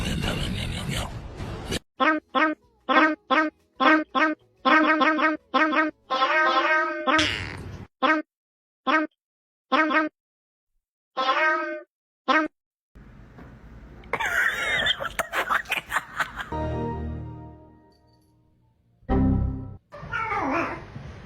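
A black cat meows in a rapid series of short, close calls, then gives a few longer drawn-out cries, with a brief human exclamation and some noisy handling near the end.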